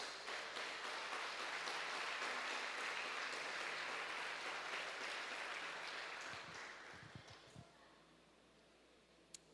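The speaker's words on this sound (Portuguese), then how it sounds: "vamos aplaudir ao Senhor Jesus" A church congregation applauds together in a sustained, dense wash of clapping that fades out toward the end, leaving a few scattered low knocks.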